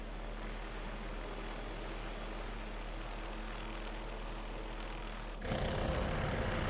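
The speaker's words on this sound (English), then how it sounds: "We got the working helicopter here." Shrike 530F helicopter in Microsoft Flight Simulator 2024, a steady broad engine and rotor drone with a low hum, holding even before the tone shifts abruptly and grows louder near the end.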